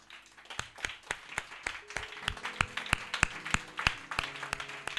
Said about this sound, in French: Et une acclamation pour le Seigneur.